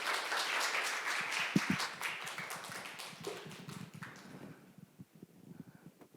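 An audience at a youth culture festival gives a burst of dense clapping that fades out after about four seconds, leaving a few scattered taps.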